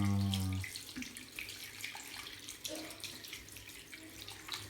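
Tap water runs into a sink during handwashing, a faint close hiss with soft splashing that follows a brief loud tone at the start.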